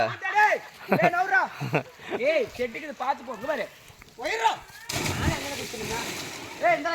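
Water splashing in an open village well as people bathe and jump in, with excited voices talking and shouting over irregular splashes and a louder, steadier wash of water toward the end.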